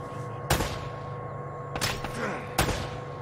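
Three sharp gunshots ring out in Uncharted: Drake's Fortune, at about half a second, near the middle and toward the end, spaced irregularly over a steady low hum of game ambience.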